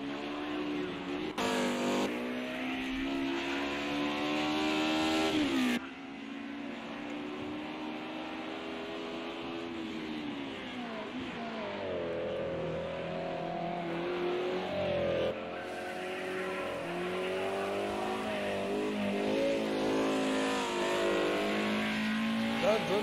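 Race cars pushed to full horsepower in a racing game rev and accelerate, their engines whining steadily up and down with occasional tire squeal, running throughout under ongoing talk.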